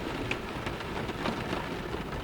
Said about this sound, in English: The rhythm of the rain will take care of the rest.